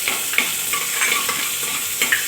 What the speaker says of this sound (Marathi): घालायच्या आधीच आपल्याला कांदा भाजून घ्यायचा आहे